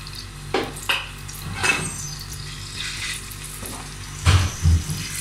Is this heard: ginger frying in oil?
yes